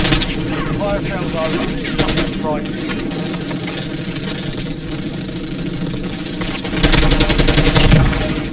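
Bursts of rapid automatic gunfire crackle in a video game over a running engine hum, loud and close, with a heavier volley near the end and a voice talking in between.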